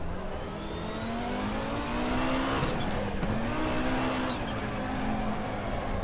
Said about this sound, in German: Immerhin kann man das Auto sehr einfach in den Drift bewegen.